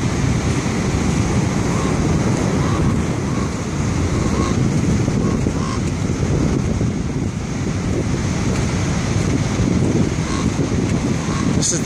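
Big ocean waves surge against the Pacifica seawall, a steady broadband roar of surf with wind buffeting the microphone throughout, loud and continuous with no clear breaks.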